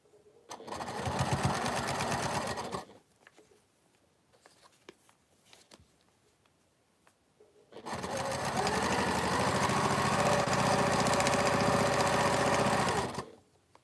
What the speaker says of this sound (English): And then I'm sewing this last section on.